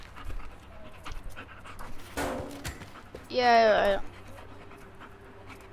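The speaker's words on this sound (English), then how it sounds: "I added a dog companion mod" A dog companion from a mod in the video game Teardown pants steadily and nearby. A brief loud burst and a man's short spoken word sound over it.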